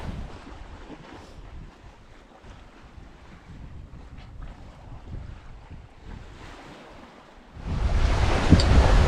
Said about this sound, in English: So we're sailing wing on wing, basically dead downwind, heading dead west.